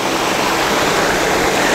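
Water flows steadily at a forest camping spot in Uttarakhand, a constant broadband rush like a nearby stream or small waterfall, even and unbroken throughout with no voices.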